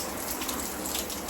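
Heavy rain pouring down, a dense, steady hiss of drops hitting surfaces, loud and continuous with no voices.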